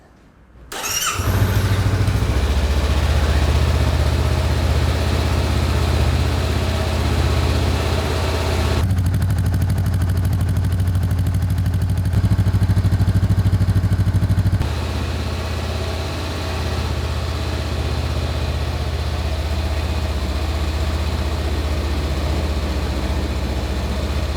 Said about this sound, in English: it's time for the first engine startup